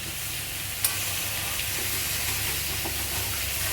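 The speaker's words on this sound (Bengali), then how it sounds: "এবার সবগুলো দিয়ে একদম কষে নেবে" Potatoes and young jackfruit sizzle and hiss steadily as they are sautéed in a pan, a continuous frying sound with a faint clink of a utensil near the start and no talking.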